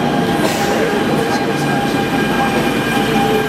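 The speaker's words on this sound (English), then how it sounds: "The real metro" A Barcelona metro train rolls along with a loud, steady rumble and rail noise, faint wheel squeal and clatter running throughout.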